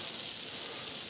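Slices of green tomato frying in butter in a pan give off a steady, even sizzle, a close and continuous hiss with no other sounds.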